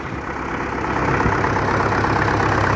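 An MTZ-80 tractor engine idles steadily after a cold start in frost without preheating, a continuous broadband diesel rumble that stays loud and close throughout, with no voices.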